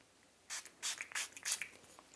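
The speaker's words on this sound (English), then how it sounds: "I'm gonna spray it on each arm" Body mist sprayed onto an arm from a pump bottle in several short, quiet hissing bursts, close and alone with no talking.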